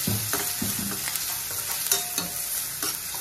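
Green chillies and onions fry in a pan with a steady close sizzle, while a spoon scrapes and clacks against the metal in repeated stirring strokes throughout.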